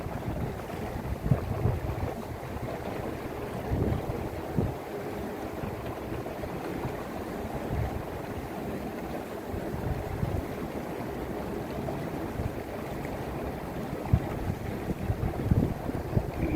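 A canal tour boat moving across Copenhagen Harbour, a low steady engine rumble and water wash under gusty wind buffeting the microphone, continuous throughout.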